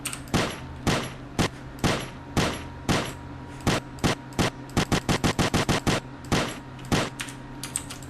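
Gunfire in a first-person shooter game built in Blender Game Engine: loud, sharp shots, first as single spaced bursts, then a rapid automatic string, then spaced shots again, with no talking.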